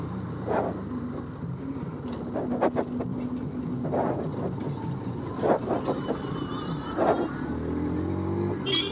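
2025 Hero Xtreme 160R motorcycle pulling hard through its first gears on a city road, engine pitch climbing and dropping with each shift, loud and close alongside passing traffic.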